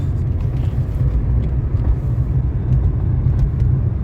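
Chevrolet Lacetti driving with the gearbox shifted straight from second to fourth and then into fifth; a steady, close engine and road rumble runs throughout with no talking.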